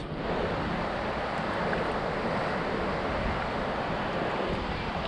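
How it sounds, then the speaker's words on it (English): A constant roaring rush of turbulent water, loud and unbroken, like rapids on the Lower Madawaska River in high water heard from nearby, with some wind noise. "This next rapid is apparently the toughest rapid of this whole section of rapids."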